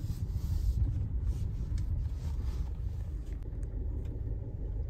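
A car's engine rumbles steadily at close range with a continuous low drone, consistent with wheels slipping and spinning on a slick surface, with no voices.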